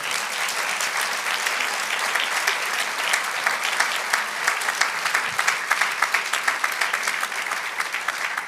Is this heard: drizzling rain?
no